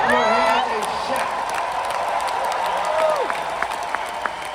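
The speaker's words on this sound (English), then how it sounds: "Somebody clap your hands and shout." Loud audience applause and cheering at an inspirational speaking event, a sustained wash of clapping under a singer's voice and music at the start, with louder individual claps scattered toward the end.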